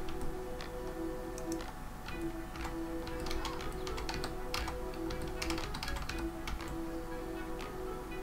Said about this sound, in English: I notice that my keyboard's starting to get quite noisy, quite a few keys are starting to get a bit sticky